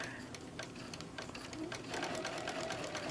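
A sewing machine stitches fabric with a fast, even mechanical whir and rhythmic needle clatter, running continuously at moderate volume close by while a person speaks over it.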